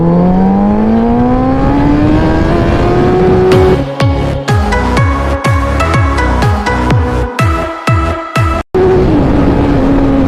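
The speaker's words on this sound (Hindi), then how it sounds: "तो भाई ये हो गई स्टार्ट और चला दी हमने बी मोड में।" A Suzuki Hayabusa motorcycle accelerates hard in B mode, its engine revving loud and close, rising in pitch through a rapid series of gear shifts, each marked by a brief drop before climbing again.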